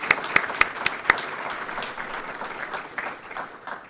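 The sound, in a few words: audience applause for event sponsors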